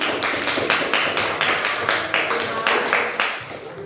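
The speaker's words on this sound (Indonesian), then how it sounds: "Beri tepuk tangan buat Selvi." A classroom of students claps for a classmate, bright rhythmic clapping at close range that holds steady for a few seconds, with no talking over it.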